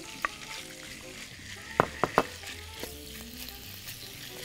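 Pieces of chicken seasoned with Mexican spice mix frying in hot oil for chicken quesadillas: a soft, steady sizzle with a few sharp clacks of a utensil against the pan midway, close by and without speech.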